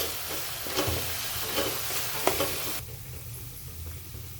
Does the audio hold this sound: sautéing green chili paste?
yes